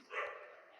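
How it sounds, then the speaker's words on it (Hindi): A single short dog bark rings out from the horror video game Garten of Banban 2, faint and slightly distant, lasting under a second. "एक बार इतने सारे डॉग भौंक रहे हैं"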